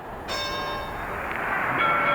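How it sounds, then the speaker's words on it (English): A boxing ring bell rings once to start a round in the Louis–Schmeling fight at Yankee Stadium, a sharp metallic clang that rings on over a loud, steady crowd roar. "Now, there's the bell."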